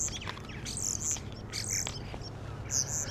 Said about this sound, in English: The birds are very talkative this morning.